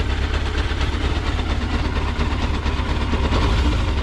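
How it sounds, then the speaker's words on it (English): A restored GP racing motorcycle engine running steadily, a loud, dense, rough close drone with no talk. "Let's go ahead and try and take this thing down the road. Go for a start up here."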